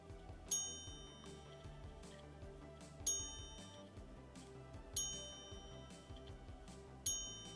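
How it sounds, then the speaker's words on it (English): A Bel Canto watch's chiming mechanism strikes four clear, ringing chimes at roughly two-second intervals, each tone decaying slowly against a quiet background. "So the major functionality in the Bel Canto is its chiming mechanism."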